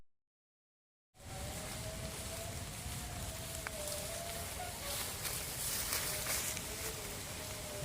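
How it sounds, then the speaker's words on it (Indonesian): Rain falling steadily outdoors after a second of silence, a soft constant patter and hiss with faint tonal sounds in the background. "hujan lagi"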